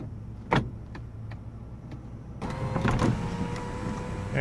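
Electric sunroof motor on a 2002 Lexus ES300 whirring steadily in a quiet car interior, a soft click at the start and a louder, fuller motor hum partway through as the panel moves.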